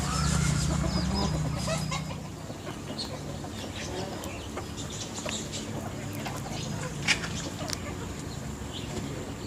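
Chickens clucking softly nearby amid outdoor background noise, with scattered short calls and a low murmur throughout.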